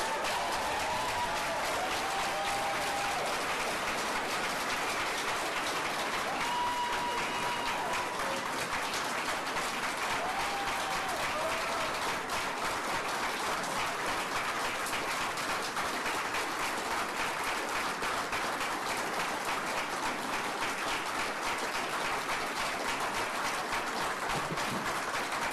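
A large audience at a government funding announcement for a Calgary art gallery applauds continuously and evenly for a long stretch, dense clapping with faint cheers scattered through.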